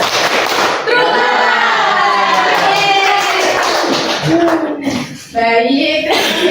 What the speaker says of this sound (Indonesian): Ayo ulangi sekali lagi. Tepuk fokus.